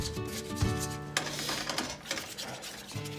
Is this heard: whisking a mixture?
yes